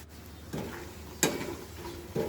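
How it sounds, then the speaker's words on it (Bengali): Pasta snacks stirred while frying in hot oil: three soft utensil knocks against the pan over a faint, steady sizzling hiss, close and quiet. "এভাবে করে নেড়ে নেড়ে লালচে করে ভেজে নিতে হবে।"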